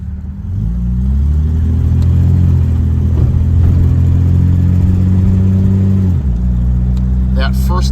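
A 1956 Jaguar Mark VII M sedan engine pulls steadily under acceleration with a smooth, quiet first-to-second gear change, a low continuous drone up close that eases off near the end.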